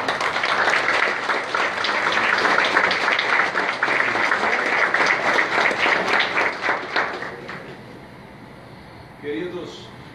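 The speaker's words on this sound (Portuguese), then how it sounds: "eu queria dar palmas para o Senhor" Applause from a congregation at a Wesleyan Methodist church funeral service, sustained loud clapping for about seven seconds before fading out, followed by a brief voice.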